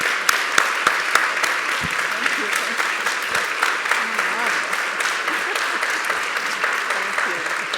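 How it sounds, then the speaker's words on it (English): An audience at a health-innovation conversation event gives a warm round of applause, dense sustained clapping from many hands filling the room, with a few sharper individual claps standing out near the start. "Please, a warm round of applause."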